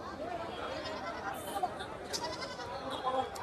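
Goats and kids bleat in short, scattered calls at the Hosadurga sheep market, mixed into a steady bed of crowd chatter while a person talks over the scene.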